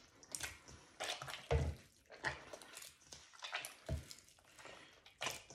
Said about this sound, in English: just going to squeeze the water into the dough.